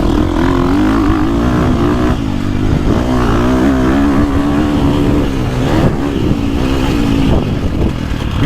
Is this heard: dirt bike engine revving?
yes